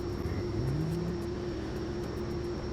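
Simulated aircraft engine in X-Plane 11 spooling up while held on the brakes on a runway, a loud steady drone with a low tone that climbs in pitch and then holds.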